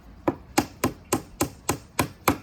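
A homemade mallet taps a wooden dowel into a birdhouse: eight sharp, evenly spaced knocks in quick succession, close and clear, with no voices.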